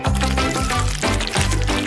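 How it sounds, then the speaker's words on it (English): Rainbow waffle dough is squeezed from syringes into waffle irons, giving short, close liquid pouring and squelching bursts over a repeating low hum, with a brief break in the middle. "I'm going to use some syringes and pour the dough into there"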